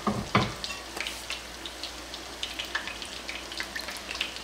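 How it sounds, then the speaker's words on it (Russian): Chebureki sizzling and crackling in hot oil, a soft steady frying with scattered pops and one louder clatter near the start. "Ну вот мы и дожарили наши вкуснючие чебуреки."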